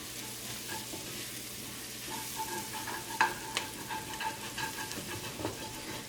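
Onions with a quarter teaspoon of turmeric powder frying over medium flame in a pan for a prawn roast, a steady soft sizzle with occasional stirring scrapes and one sharper clack partway through.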